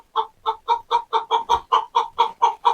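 A chicken in a coop gives a close, steady series of about a dozen rhythmic clucks, evenly spaced and loud, with no talk.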